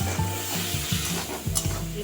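A little water goes into an onion, ginger and garlic spice paste frying in a pan, giving a steady close sizzle broken by scraping stirs, with faint tones in the background.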